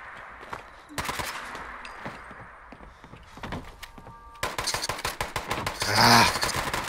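Gunfire in Fallout 76 during a player-versus-player fight, scattered single shots and bursts giving way to rapid sustained automatic fire, loud and close, with no talk.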